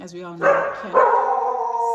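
A pet dog named Stush barks indoors, two sharp close yips breaking in over a person speaking.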